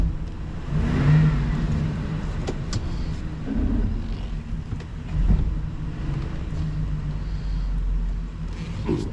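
A car engine hums and revs in bursts while the vehicle is backed slowly into a tight spot beside a large two-level pool cage, with a steady mid-range drone throughout.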